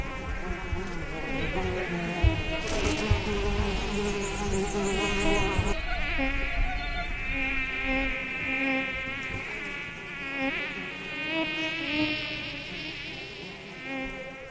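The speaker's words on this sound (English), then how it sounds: "The insects are prehistoric." Insects swarm near a Mayaruna village clearing in the Amazon jungle, a dense, loud, close buzzing drone of flies and mosquitoes with wings whining past, continuous and unbroken, no voices.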